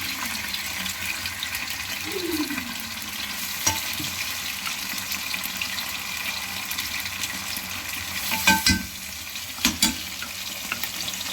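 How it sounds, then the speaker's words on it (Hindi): Chicken pieces frying in a home kitchen pan for chicken Manchurian, a steady close sizzle with occasional stirring clatter and a few sharp scrapes near the end. "ये जा रहा है जिसके अंदर चिकन।"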